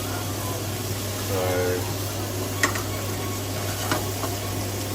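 Seafood sizzling in a pan for a garlic butter seafood salad, a steady hiss with a few clinks and scrapes as it is mixed around, close and continuous.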